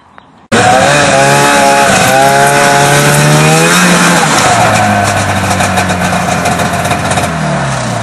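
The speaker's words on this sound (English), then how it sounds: "I'm going to drill a hole closer into the center" A loud, continuous power drill whines up to speed, its motor pitch shifting as it bores a hole into a homemade snowmobile loading ramp, close and dominant.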